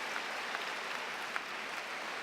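An outdoor graduation crowd applauds for faculty on stage, a soft, distant wash of many hands clapping that holds steady without a break.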